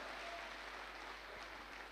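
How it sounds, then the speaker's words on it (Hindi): An audience at a Safe Shop meeting applauds for Gopal ji with a steady, dense wash of clapping, faint and distant, continuing without talk. "एक जोरदार ताली गोपाल जी के लिए।"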